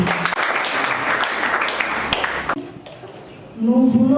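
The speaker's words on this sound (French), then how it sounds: "nous acclamons aussi notre chorale qui nous a animés aujourd'hui" A church congregation applauds its choir at an opening Mass for the academic year in Goma, steady dense clapping filling the space for a few seconds before fading and giving way to a speaking voice.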